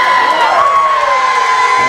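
Concert audience at a Flobots show screams back at the stage in one loud, sustained burst of many shrill voices cheering together, close and filling the whole moment.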